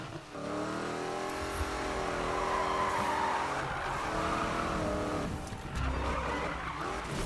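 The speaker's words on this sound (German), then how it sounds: "Innerhalb des Bereichs driften ohne anzuecken." Car drifting in a Need for Speed game with tires skidding and squealing over a revving engine, sustained and close, the squeal briefly easing then resuming near the end.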